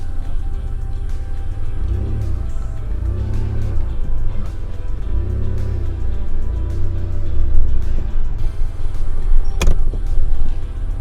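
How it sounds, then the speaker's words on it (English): A third-generation Toyota 4Runner reverses onto a main road, its engine a steady low rumble with rhythmic surges and a sharp click near the end, heard from inside the cabin without speech. "I'll just keep backing out onto the main road."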